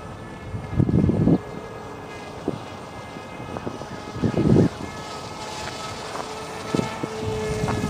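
A radio-controlled model airplane with a propeller motor run at full throttle flies overhead, its buzzing drone swelling in louder passes around one and four seconds and otherwise hanging steady at a moderate distance.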